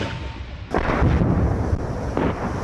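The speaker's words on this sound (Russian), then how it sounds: "Первые выстрелы, чтобы разогреть ствол танка" A Russian T-80 tank fires its cannon on the front line near Bakhmut, a heavy close boom followed by a rolling, rumbling echo and a second muffled thump.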